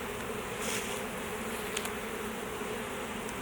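Honeybee swarm being put into a hive box, a dense continuous buzzing that stays close and fairly soft, with a few brief louder passes of individual bees.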